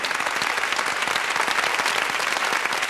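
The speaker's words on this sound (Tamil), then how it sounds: "ப்ளீஸ் உங்கள் கரகோஷம் ப்ளீஸ்." Audience at a Tamil television award function applauding, a steady dense wash of many hands clapping that fills the whole stretch without letup.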